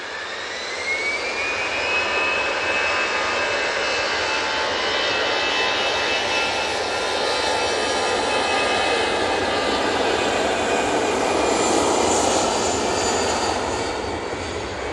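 An Easyjet jet airliner takes off at Manchester Airport, its engines building into a loud, sustained roar with a rising whine that swells and holds throughout.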